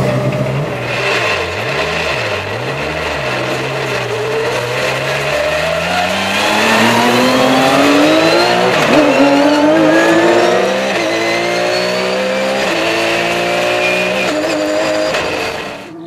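A Porsche 911 GT3 Cup race car engine revs up and down on a shakedown run, rising in strong sweeping pitch climbs with gear changes. It is loud and close, and there is no talk.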